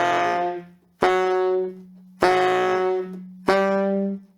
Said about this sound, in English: start with a straight note, and then do a growling note.